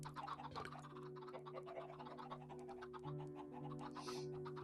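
In the TerraFirmaCraft mod for Minecraft, a chicken in a nesting box clucks in quick, faint bursts over a steady humming background.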